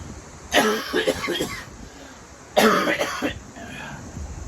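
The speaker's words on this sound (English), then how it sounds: "this coughing it drives me bananas" Two rough coughing bursts, close by, each lasting about a second, separated by a short pause, with a faint throaty sound trailing after.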